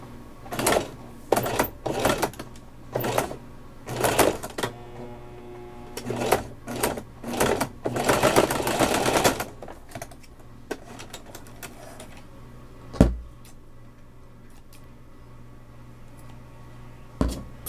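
A sewing machine stitching fabric for a keyfob runs in several short, loud bursts of rapid mechanical rattling, separated by pauses with quiet handling noises and a sharp clack.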